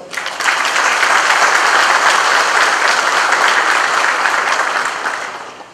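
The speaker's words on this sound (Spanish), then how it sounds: "Les pido un fuerte aplauso" An audience at a launch event for Unicoop's green bags bursts into strong applause, a dense, loud wash of clapping that swells quickly, holds steady for several seconds, then tapers off at the end.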